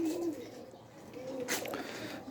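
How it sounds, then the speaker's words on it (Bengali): A male Jagmukha pigeon gives a soft, low cooing call close by, one drawn-out coo followed by a quieter one, with light rustling in the background. "এই যে একটা জাগমুখা কবুতর"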